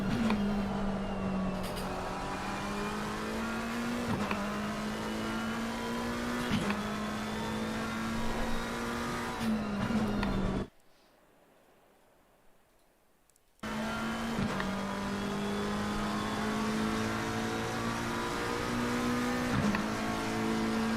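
Race car engine in a sim racing video game lapping a track, a steady high drone that rises and dips with gear shifts, cutting out briefly to near silence midway before resuming.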